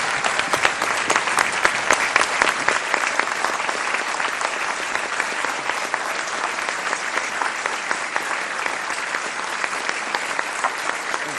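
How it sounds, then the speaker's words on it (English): Sustained, dense applause fills Harvard University's 2011 commencement morning exercises as a large crowd of faculty and deans thanks Provost Hyman, loud and even throughout with no break. "Please join me in applauding and thanking Provost Hyman."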